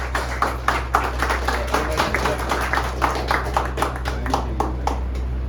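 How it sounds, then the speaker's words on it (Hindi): Applause for a guest named Rishabh at a children's annual function, P.I. Jain & Company's Pragati 2024, sounds as a steady patter of clapping across the whole stretch, moderately loud over a constant low hum. "तालियां हो जाए श्रीमान ऋषभ जी के लिए"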